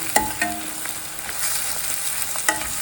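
Chopped garlic frying with onions in a pan for tomato gojju makes a continuous hiss and crackle, with a few sharp utensil clinks and stirring scrapes near the start and end.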